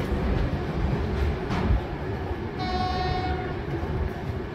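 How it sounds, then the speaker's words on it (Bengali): A train rumbles and rattles out of Durgapur station, a steady close rolling clatter of the carriages, joined midway by a sustained horn blast. "আমাদের ট্রেন দুর্গাপুর স্টেশন ছেড়ে বেরিয়ে গেল"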